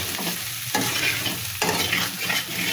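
Potatoes and spices stir-fry in a hot pan at home, a steady close sizzle broken by scraping strokes of a spatula roughly every second, with no talk.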